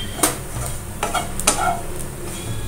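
Curry leaves sizzle in oil in a pan of raw banana fry, with a few soft scraping stirs of a spoon over a steady frying hiss.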